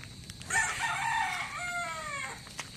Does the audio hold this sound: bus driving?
no